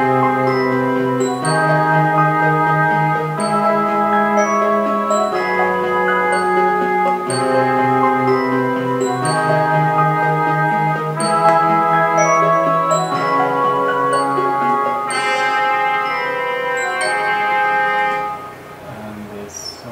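A sampled keyboard patch called The B Keys from the Retro Lock 2 library plays a sustained melodic phrase with layered chords, loud and steady throughout with no talk, fading slightly at the end.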